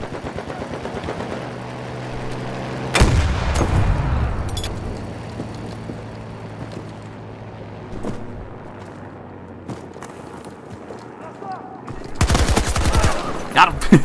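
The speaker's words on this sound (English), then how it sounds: "everyone's just using a bazooka, they're not even using the guns" Heavy gunfire and booming explosions from rockets in the video game Battlefield 2042, with a sharp blast near three seconds, a long rumbling tail, scattered shots and another loud burst near the end.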